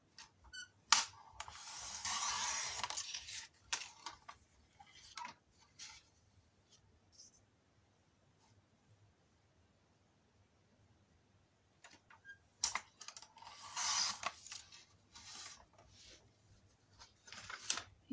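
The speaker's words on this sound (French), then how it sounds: "Donc je coupe le long des traits" Paper is cut along drawn lines. Two bursts of close, crisp cutting and rustling are separated by a long near-silent stretch, with faint ticks and handling noises in between.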